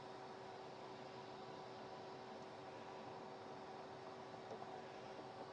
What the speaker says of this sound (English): So now with that shop vac running